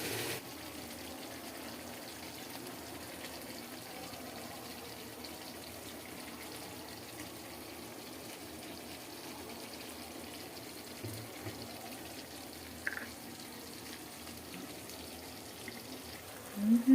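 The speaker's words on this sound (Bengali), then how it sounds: "চিকেনটা খুব ভালো করে একদম ফ্রেশ করে ধুয়ে নিলাম।" Tap water runs steadily over raw chicken in a home kitchen sink while it is washed, a soft continuous wash with a few small clatters near the end and no talking.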